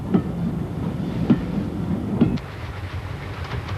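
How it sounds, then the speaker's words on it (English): An LMS Jubilee Class steam locomotive passes on the Severn Valley Railway, its carriages rolling by with rhythmic clickety-clack wheel beats and a steady rumble that eases slightly toward the end. "visiting engines from all around the country come to the Severn Valley Railway to show their paces, like this LMS Jubilee Class 460"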